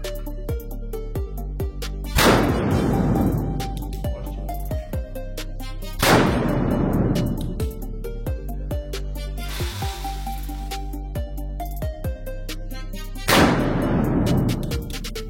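Three loud, widely spaced pistol shots from a subcompact 58 at a shooting range, each a sharp crack trailing into a long echoing decay over a steady background hum.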